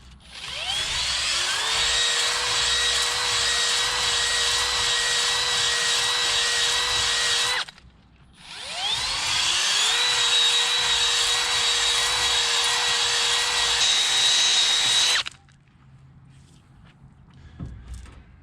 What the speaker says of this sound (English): And that's how you hone them, boys.